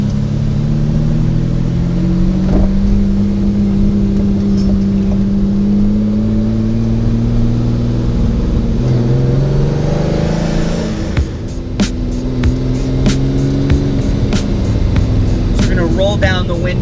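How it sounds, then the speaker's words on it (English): A Lamborghini Countach on a hot day in Miami, its engine droning steadily inside the cockpit with shifting pitch as it drives, then a burst of clicking ticks near the end, with a voice speaking over it. "not bad so far daily driving the Countach"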